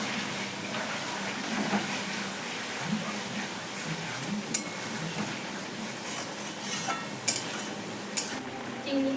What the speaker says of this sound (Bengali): আমি আদা রসুন দিয়ে অনেকক্ষণ ভেজে নিচ্ছি